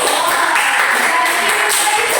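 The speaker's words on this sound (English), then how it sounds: "Give a clap to Miss." A classroom of students clapping together for their teacher, a dense, steady patter of many hands lasting a couple of seconds at close range.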